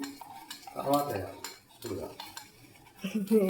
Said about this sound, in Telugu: ఇట్లా కలపాలి మంచిగా మసాలా కలిపి